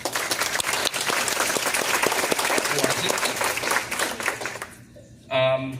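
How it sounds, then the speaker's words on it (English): Sustained audience applause for school board candidates at a meet-and-greet, a thick steady clatter of many hands, fairly loud, tapering off near the end before a voice begins speaking. "Give them a round of applause."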